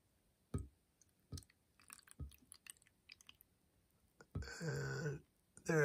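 Water poured from a cup into an essential oil diffuser, a steady trickling splash lasting about a second near the end, following a few soft clicks and handling knocks, close and fairly quiet.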